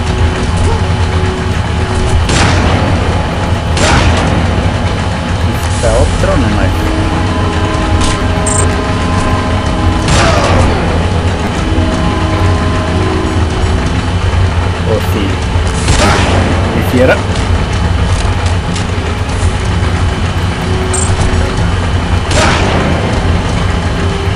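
Video-game gunfire cracks and booms in scattered shots and bursts over a loud, constant mechanical rumble, with muffled talk underneath.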